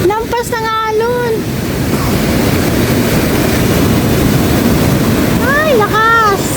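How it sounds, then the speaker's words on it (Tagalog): Strong ocean waves crash and roar continuously at the Baler, Aurora surfing area, loud and close with wind buffeting the microphone, while a voice speaks briefly at the start and again near the end. "Lakas ang alon."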